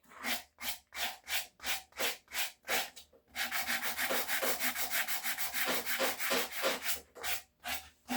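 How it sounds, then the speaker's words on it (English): Rhythmic back-and-forth rasping of a sanding block on a wooden axe handle, steady even strokes close up, first spaced apart then faster and continuous, no voices. "I'm going to take a sanding block"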